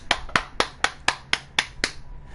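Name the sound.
round of applause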